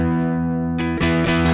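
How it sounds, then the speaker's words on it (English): Electric guitar played through a multi-effects unit set to a low, buzzy distortion: a sustained fuzzy chord rings out, then three quick re-struck chords follow in succession, loud and alone. "The buzz is like a low distortion."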